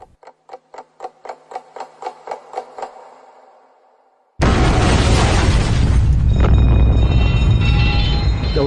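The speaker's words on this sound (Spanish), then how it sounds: "De repente se oyó una explosión." On a ferry, a run of evenly spaced ticks fades out, then a sudden loud explosion erupts into a sustained, roaring rumble that fills the rest of the moment.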